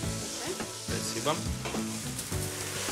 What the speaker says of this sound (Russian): Обжариваем муку с анчоусами.